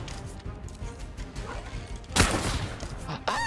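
A sharp, loud sniper rifle shot cracks out in a video game firefight, standing above a steady bed of game sounds and scattered impacts, with a short burst of further noise near the end.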